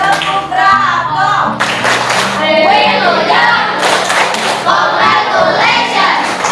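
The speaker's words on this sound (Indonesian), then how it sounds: "Mari kita tepuk bravo buat kelompok 3." A group claps a rhythmic bravo cheer for a presenting group; loud, patterned clapping with thumps runs throughout while voices chant and talk over it.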